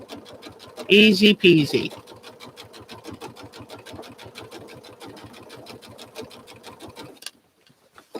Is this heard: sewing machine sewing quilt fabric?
yes